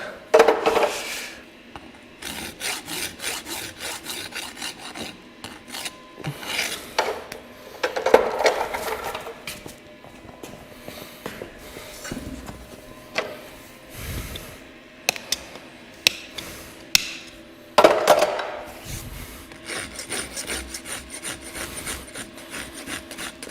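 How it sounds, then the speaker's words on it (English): Farrier rasping around the clinches on a horse's shod hoof, heard as repeated rough, scraping strokes in uneven bursts with brief pauses, close up and moderately loud, with no talk. "Rasping around the clinches, bring all the clinches back down to the same length"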